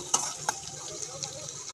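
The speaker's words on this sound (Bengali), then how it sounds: "এবার একটু নেড়ে নেবো" Soybean and potato curry sizzling in a pan as it is stirred, soft scraping with a couple of sharp clicks of a spoon against the pan over steady frying.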